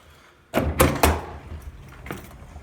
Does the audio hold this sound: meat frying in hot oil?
no